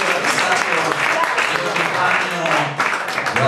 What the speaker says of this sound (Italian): Fulvio Gatti, un applauso.